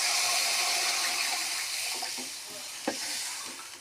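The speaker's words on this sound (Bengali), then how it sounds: "এবার আমি এর মধ্যে একটু জল দিয়ে দিচ্ছি।" Water pours into a pan of fried spices for an egg and spinach curry, making a continuous splashing gush that fades slightly, with a soft clunk near the end.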